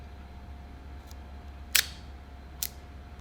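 A Pentax 67 medium-format camera fires via a shutter release cable, giving two crisp, close mechanical clacks about a second apart against a quiet room hum.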